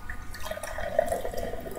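Milwaukee's Best Light beer pours aggressively into a glass with a bubbling, gurgling splash, close and fairly quiet, with no talking.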